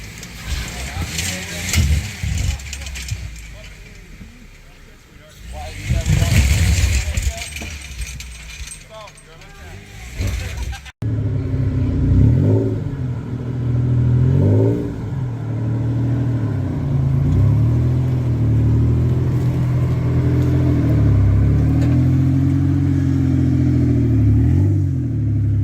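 A Jeep JL in four-wheel drive, first with clattering and people talking, then its engine droning steadily up close with a few short revs rising over the hum.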